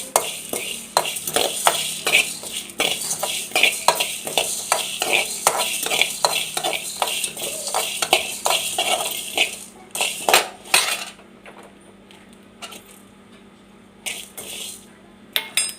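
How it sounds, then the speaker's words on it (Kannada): Spices with cumin dry-roasting in a pan for a fish curry, with rapid rhythmic clinks and scrapes of a utensil against metal, then sparse taps and a quieter stretch toward the end. "ಬೇರೆ ಬೇರೆ ಸರಿ ಹುರಿಯಿರಿ. ಆನಂತರ ಜೀರಿಗೆ ಹಾಕ್ತೇನೆ."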